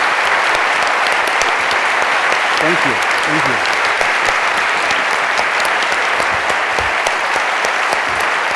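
A crowd gives a big, loud round of applause for a guest, a continuous roar of clapping as someone speaks briefly over it.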